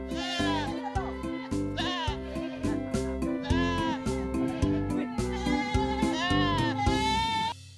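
Boer goats bleating on a goat farm in Calatagan, Batangas, a chorus of repeated wavering calls from several animals overlapping close by, with quieter livestock noise between them and no talk.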